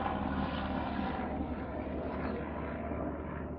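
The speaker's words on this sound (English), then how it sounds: "there's a police helicopter flying over." A steady low droning engine roar of a police helicopter passing overhead at a distance, holding constant throughout with no voices.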